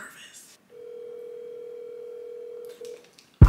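A telephone ringback tone on a prank call sounds as one long steady electronic tone, clear and close through the handset, after a brief voice at the start, ending in a sharp loud click or bump.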